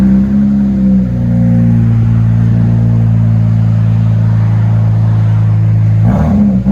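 Dodge Charger 3.6L V6 with Dynomax Bullet mufflers idles with a deep, steady exhaust rumble that holds loud and even, with a brief blip of throttle near the end.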